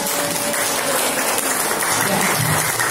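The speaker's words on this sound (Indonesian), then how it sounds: "Tepuk tangan untuk kita." Students at a junior high school event applaud, a loud continuous wash of many hands clapping close and dense throughout, with faint voices underneath.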